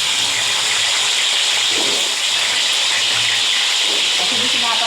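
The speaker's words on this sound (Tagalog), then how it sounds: "Tsaka tayo maggigisa ng ating sibuyas," Onion and garlic sautéing in a hot pan, a loud, dense sizzling hiss that runs steadily for the whole few seconds.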